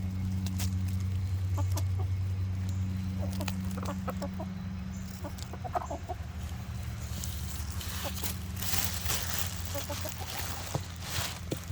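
A chicken clucking in an attic during a European hornet nest removal, with repeated low clucks close by over a steady background hum and scattered knocks and rustles.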